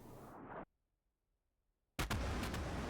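Sonic booms from jet aircraft flying at high altitude in a combat flight video game, heard as a loud broadband roar that cuts to near silence, then a sharp, powerful burst of blast-like rumble that sustains to the end.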